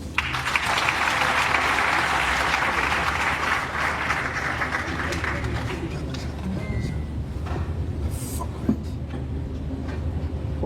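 Audience at a university graduation ceremony applauds loudly for several seconds, then the clapping thins out and fades into a low hall murmur with scattered claps.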